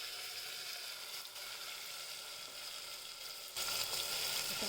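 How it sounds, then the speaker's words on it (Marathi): Onion and tomato puree with whole spices sautéing in a pan for rajma masala, an even hiss of frying that swells louder near the end, close and without talk. "आता आपण परतून घेऊया."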